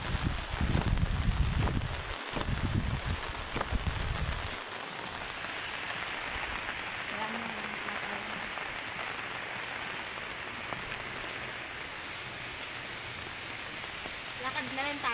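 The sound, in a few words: rain falling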